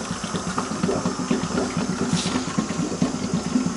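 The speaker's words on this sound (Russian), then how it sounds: "Врубаем насос." A pump on a RIMS home brewery rig runs steadily with a close, even mechanical hum and a faint rhythmic pulsing, alone with no voices.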